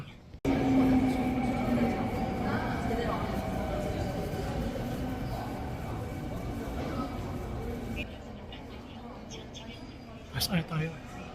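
A Korean subway train rumbles steadily from inside the car, with a faint sustained tone above the noise. The rumble drops quieter near the end, followed by a couple of short metallic clacks.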